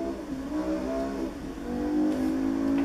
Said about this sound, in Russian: Можем нажимать педаль акселератора.